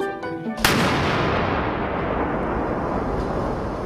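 A powerful blast-test explosion detonates against blast-resistant structural columns in a laboratory test, a single sharp, loud boom followed by a long sustained roaring rumble, preceded by a brief tonal hum.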